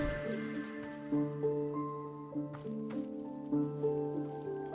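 Watering plants in the cozy tea-shop video game Wanderstop: soft splashing water effects pulse repeatedly under gentle tonal game music, with a few chime-like sparkles.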